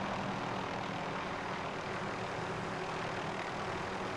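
Helicopter in Call of Duty: Modern Warfare, a steady rotor and engine drone filling the whole stretch at constant loudness, with no talk over it.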